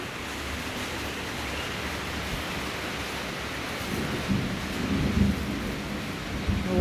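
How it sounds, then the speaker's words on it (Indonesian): Thunder rumbles low and steady through a downpour of rain, a continuous heavy wash with a few louder swells toward the end, no voices present. "Ada petir di sini"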